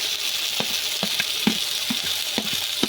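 Prawns being stirred into hot fried spice paste in a pan, oil sizzling steadily with a series of regular scraping strokes of the spoon, close and clear.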